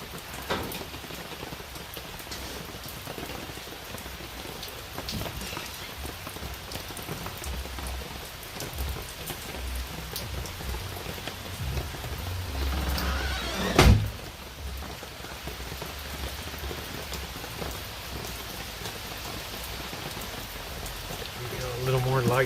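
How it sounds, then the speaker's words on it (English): Steady rain patters on a surface through a wet holiday-season night at an RV ranch, a continuous soft hiss broken once by a brief louder knock partway through. "Can you hear that rain, guys?"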